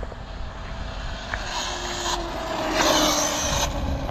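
A Traxxas Maxx V2 RC car on 4S power with 34/47 gearing holds full throttle, producing a loud, sustained high-pitched motor whine with surging pitch over rumbling wind noise. The whine swells near the end, and nobody speaks.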